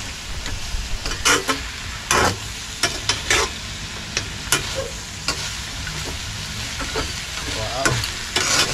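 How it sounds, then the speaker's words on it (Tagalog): Food frying in a pan sizzles steadily while a utensil stirs it, scraping and clinking against the pan in short, irregular knocks close by. "haluin natin."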